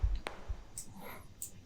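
A second layer of enveloped white noise through a 4-pole bandpass filter: a soft click, then two short, bright hiss bursts, faint and spaced apart over a low background.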